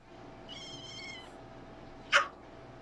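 A cat meows once in a soft, drawn-out call, followed a moment later by a brief sharp higher cry over a quiet indoor background.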